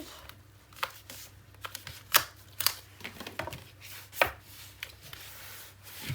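Paper on a 9 x 9 mini album page being burnished by hand, a soft dry rubbing with scattered sharper scrapes and taps, close and quiet with no talk.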